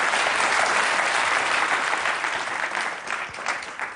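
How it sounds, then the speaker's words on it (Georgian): Studio audience on a TV show breaks into loud, dense applause that holds strong and then eases slightly over a few seconds, with no talk over it. "ტაში"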